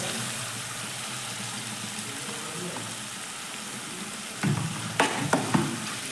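Prawns coated in turmeric, salt and kokum agal frying in an oily tomato gravy, a steady close sizzle followed by several louder splashes and stirring clatters near the end.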